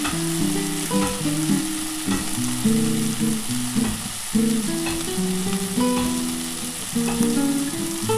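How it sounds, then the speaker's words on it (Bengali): Bitter gourd dusted with chili powder fries in a pan, a loud continuous sizzle broken by repeated scraping strokes of a spatula stirring the pieces. "এবার ভালো করে মশলাটার সাথে কষাতে হবে।"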